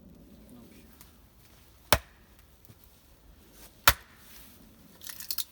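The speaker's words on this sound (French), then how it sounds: "on va pouvoir fendre la bûche, d'abord en deux" Small hatchet splitting a log in two outdoors, two sharp chopping thwacks a couple of seconds apart, followed by a few lighter cracks of wood splitting, in quiet surroundings.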